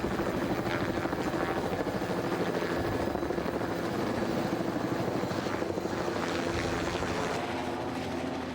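Helicopter rotor noise throbs steadily and loudly, a continuous whirring beat from an aircraft nearby, with no one speaking.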